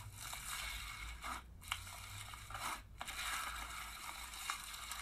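Crunchy slime packed with little crunchy bits is squeezed and crushed by hand, giving dense crackling and scraping bursts with short pauses between squishes, close and steady, no talking.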